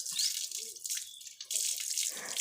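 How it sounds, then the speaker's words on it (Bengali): Hands being washed under a running household tap, a steady close hiss of flowing water with brief splashy breaks as the hands move through the stream. "হাত ধুয়ে দাও।"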